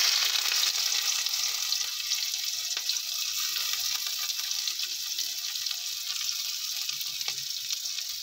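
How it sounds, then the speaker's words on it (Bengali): Chopped onions frying in hot mustard oil, a steady bright hiss and crackle of sizzling close to the pan, constant throughout with occasional faint stirring clicks and no talking. "গরম হয়ে গেছে, দিয়ে দিচ্ছি সর্ষের তেল।"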